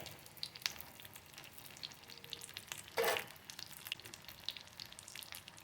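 Shrimp cutlets frying in hot oil give a faint, steady sizzle with soft crackles, swelling into a louder burst of spitting about midway before settling back to a low hiss.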